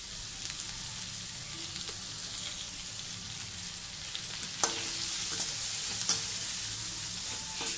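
Ginger and dry red chillies fry in a pan of oil for poha upma, giving a steady soft sizzle with occasional stirring clinks and scrapes, close and fairly quiet, no talking.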